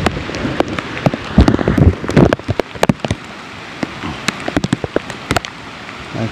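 Heavy rain pours down at the summit of Mount Sumbing, drumming loudly and unevenly on nearby surfaces with sharp splattering hits throughout.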